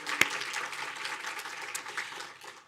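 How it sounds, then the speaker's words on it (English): Crowd at a student nanotechnology competition claps in a moderate, even wash of applause that carries on without pause, with one sharper clap near the start. "Yes, applause is correct"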